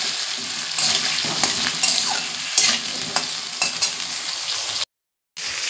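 Salted potatoes frying in a pan while being stirred: a loud, steady sizzle close by with repeated scraping stirs, cut off briefly by a moment of silence near the end.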